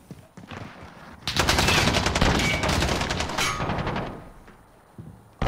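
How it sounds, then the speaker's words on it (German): Bursts of rapid video game gunfire, dense automatic shots rattling for a few seconds after quieter pops, loud and close, with no talking. "Alter, ich höre jetzt 1000 Schüsse."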